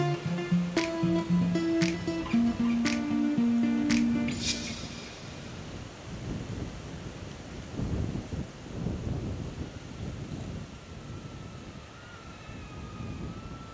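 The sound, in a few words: wind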